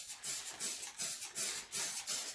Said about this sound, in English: That's really, you're just spraying it, and that is it.